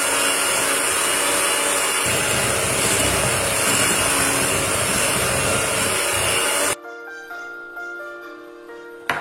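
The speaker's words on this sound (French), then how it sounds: "Je le travaille encore 1 minute au batteur électrique pour bien blanchir le beurre et le sucre." An electric hand mixer whirs loudly and steadily as it creams butter and sugar, a dense buzzing motor drone that stops abruptly near the end and leaves a quieter hum.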